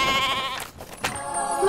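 Sheep bleat in a claymation advert with a loft insulation theme, a wavering nasal cry followed by short noisy bursts and another held bleat.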